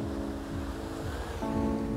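Ocean waves wash in a broad, steady surf roar, with sustained tonal hum layered over it throughout.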